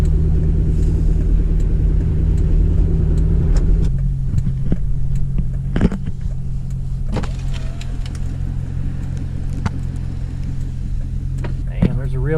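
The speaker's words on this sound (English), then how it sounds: "I'm driving around with my hazards on because as soon as I step on it a little bit, I'm sliding all over." A Corvette creeps along a snowy road in a blizzard in El Paso, Texas, its engine a steady low rumble with occasional revs and bumps as the tires slip; a voice talks over it.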